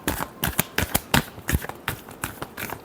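Tarot cards being shuffled by hand in a quick, uneven run of crisp riffling snaps and flutters, close and fairly loud, with no talk.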